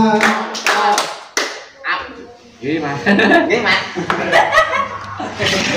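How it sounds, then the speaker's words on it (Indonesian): Schoolchildren at a special needs school in Sleman, Indonesia, doing double hand claps during a Ramadan storytelling session: a quick run of sharp, close claps at the start, then laughter and chattering young voices. "Tepuk ganda."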